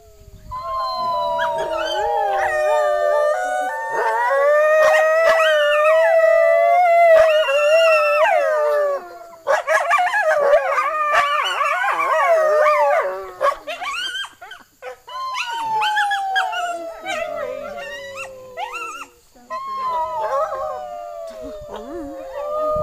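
Several wolves at Wolf Park howl together in a long chorus. The overlapping, wavering howls rise and fall, sounding like many more animals than are there. A quieter voice speaks briefly under the pack.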